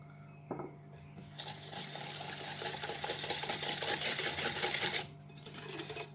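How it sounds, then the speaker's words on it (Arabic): An electric mixer whirs steadily at close range, beating eggs with a packet of vanilla in a bowl for a Afghan sesame cake batter, a continuous motor drone with rattling, no talk. "واحط عليهم كيس فانيليا وهضربهم بالمضرب كده بس افككهم مع بعض"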